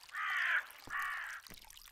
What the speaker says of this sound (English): Fucking ravens.